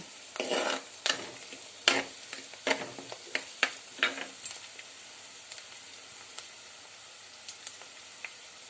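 Onions sautéing in a pan, a soft hiss under a series of sharp spatula scrapes and clinks that thin out toward the end, close and fairly quiet.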